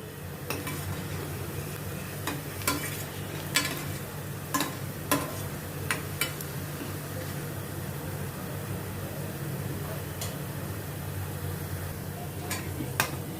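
Onions frying in a pan with a steady low sizzle, broken by occasional sharp clinks and scrapes of a spoon stirring against the metal, fairly faint and close.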